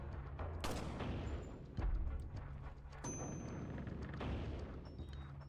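Sharp gunshots ring out in Resident Evil 4 as shots are fired at a painting, a few loud reports with metallic clangs and pings over a low rumbling background.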